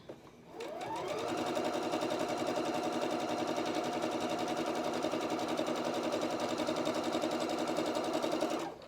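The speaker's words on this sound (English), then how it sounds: "So I'm stitching all the way along this under piece here to take it to the far end." A sewing machine runs steadily for several seconds, stitching along an under piece of quilt fabric, its fast even mechanical chatter loud and close with no talk over it after a brief start-up.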